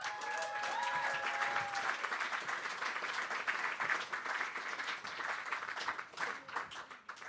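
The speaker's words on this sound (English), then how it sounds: "let's give a round of applause for Kylie" A room full of people at a book launch event applauds for Kylie, a sustained, dense round of clapping from a moderately distant audience that holds steady for several seconds before thinning slightly at the end, with a few faint voices beneath.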